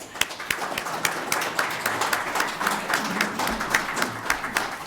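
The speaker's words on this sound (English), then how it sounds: "So let's give them a round of applause." Modest applause for unopposed candidates at a League of Women Voters candidates night, with sparse individual claps standing out from a light, steady patter, moderately near and fairly quiet.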